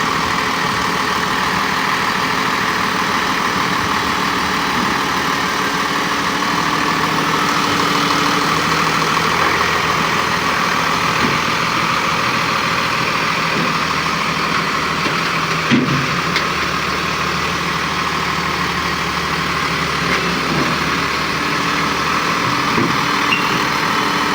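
A tractor engine runs continuously at a steady idle beside a grain dryer, loud and close, with a constant low rumble and no pauses.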